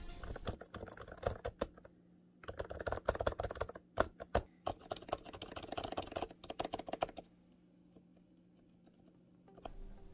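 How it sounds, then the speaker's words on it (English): Buttons on a Razer Kitsune controller are pressed in quick, irregular bursts of close, crisp, fairly quiet clicks and taps. The pressing pauses briefly twice and then tapers off into near silence. "the buttons are comfortable and are definitely on the quieter side"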